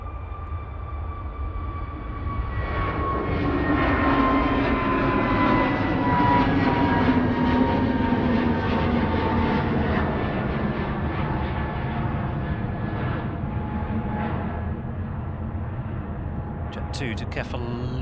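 An Aer Lingus jet airliner takes off at Manchester Airport, its engine roar building to a broad, loud rumble and then slowly fading with distance, while a person talks over it.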